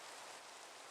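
Steady rainfall in Minecraft, a constant even hiss of drops with no variation, faint and alone without any talk.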